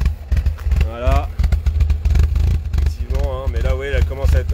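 A Peugeot 205 GTI engine runs loud and close, rumbling and popping unevenly while revving rises and falls, as someone talks over it.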